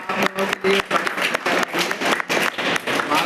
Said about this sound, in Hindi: दोनों के लिए आप ताली बजा दें